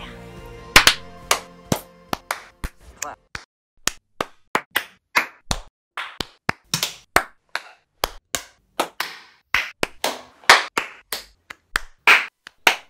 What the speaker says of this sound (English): So why don't we give you guys a round of applause?